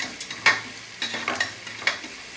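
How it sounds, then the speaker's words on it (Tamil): Onions sizzle in a pan as a spoon stirs them, giving a soft frying hiss with a few quick scraping strokes, heard up close and without speech. "வெங்காயம் நல்லா ஒரு 3/4 வேக்காடு வணங்கினா போதும்"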